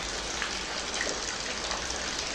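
Steady hiss of rain falling and water splashing on a surface, constant and moderately quiet, with scattered drips and no voices.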